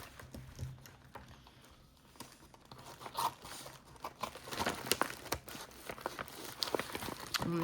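Paper tears and crinkles as a parcel envelope is opened by hand, with soft rustling and ripping close up, growing busier toward the end.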